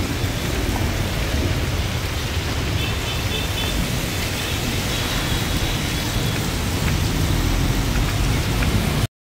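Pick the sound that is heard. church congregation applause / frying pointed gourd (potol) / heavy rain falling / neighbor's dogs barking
heavy rain falling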